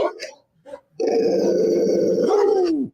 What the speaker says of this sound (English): Let the dogs out for Lefty, man, please, man.